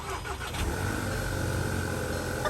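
A Volkswagen CC engine cranks and catches after a battery change, then settles into a steady, moderately loud idle hum close by.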